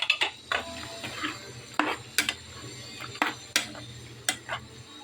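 Spoon stirring tomato paste into chicken gravy in a metal pot, a run of sharp scraping clinks against the rim at an uneven pace over a low steady stove hum.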